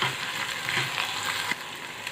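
Ginger garlic paste fries in a pan for vermicelli biryani, making a brief, steady sizzle close up, stirred with a faint scrape partway through.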